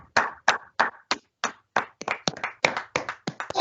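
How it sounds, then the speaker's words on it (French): Audience at a French school award ceremony clapping in sparse, distinct claps, a few hands at first, then quicker and denser, with no voices over them. "On les applaudit."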